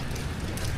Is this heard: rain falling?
yes